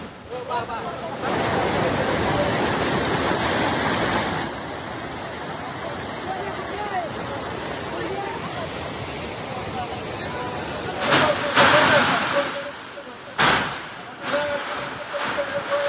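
Floodwater from a breached Nira Left Canal roars loudly and steadily after heavy rain near Baramati and Indapur, a broad continuous gush, with voices talking over it and a few sharp bursts near the end.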